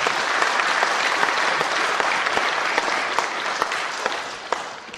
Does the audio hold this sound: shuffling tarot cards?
no